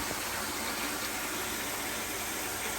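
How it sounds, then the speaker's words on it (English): Water pours steadily from a pipe into a garden koi pond, a constant splashing gush without pauses and no voices. "I really like the way that it adds extra oxygen into the water"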